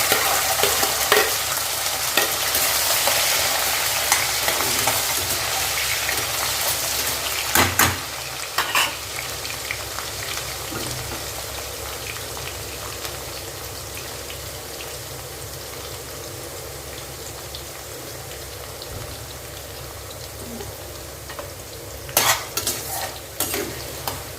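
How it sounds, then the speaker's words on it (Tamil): Vegetables sautéing in oil for a homemade vegetable pickle, a steady crackling sizzle with scraping stir strokes and a few sharper clatters, close and fairly loud, with no talking. "காய்கறிகள் இந்த எண்ணெயிலேயே வதங்கி வரணுங்க"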